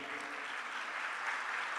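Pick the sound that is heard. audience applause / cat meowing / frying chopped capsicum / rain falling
audience applause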